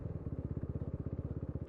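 A motorcycle running with its exhaust baffle reinstalled, a quiet, rapid, even putter of exhaust pulses heard close and alone for a brief moment.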